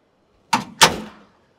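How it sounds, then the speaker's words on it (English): Two quick sharp sounds come from the sliding side door on a 2023 KingFisher 3025 GFX boat, a latch click followed by a brief rolling slide that settles into place, close and alone. "So this door locks into place. Pull down here, slides and locks."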